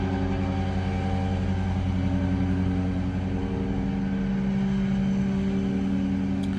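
A steady, droning motor hum holds throughout at a moderate level, a vehicle passing outside an open window, with no voices.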